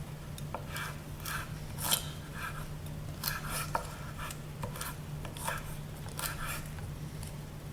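A knife roughly chops bruised lemongrass stalks on a board for Thai chicken soup, giving a series of crisp, close cuts and scrapes in an uneven rhythm over a low steady hum.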